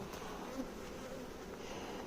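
Honey bees hum at an open hive during a brood inspection, a faint steady drone close by with no talk.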